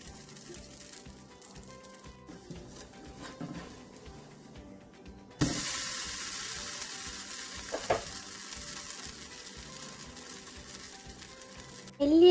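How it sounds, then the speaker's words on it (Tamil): Ghee sizzles and fries steadily on a hot pan while rava dosa cooks, a quiet bed of crackle that jumps louder midway as more batter or ghee hits the surface, with no talking. "கொஞ்சமாக நெய் சேர்க்குறேன்."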